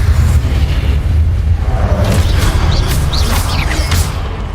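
A Confringo spell explosion in Hogwarts Legacy, a steady heavy low rumble with crackling bursts that keeps going for several seconds, with spell sparkle on top.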